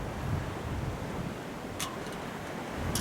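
Wind blowing across an open bay heard from aboard an anchored sailboat, a steady broad rush with low buffeting gusts against the microphone and faint water movement, continuous throughout without voices.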